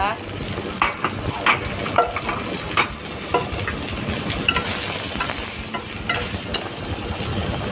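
Crushed garlic and shallots stir-frying in oil in a pan, a dense continuous sizzle with intermittent scraping clicks of a spatula, close and loud, no talking.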